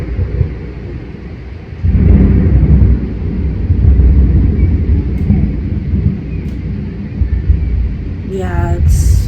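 Thunder rumbles in a deep, sustained roll during a bad storm. It swells loud after a quiet start and lingers for several seconds, with a brief faint tonal sound near the end.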